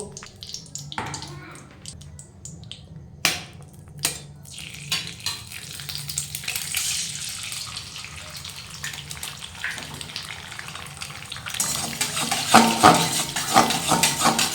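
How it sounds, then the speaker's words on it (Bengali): Egg frying in leftover oil in a pan after eggplant was fried in it, a steady close sizzle with stirring scrapes and clinks, growing busier toward the end. "এই তেলে আমি ডিমটাকে একটু ফ্রাই করে নেব।"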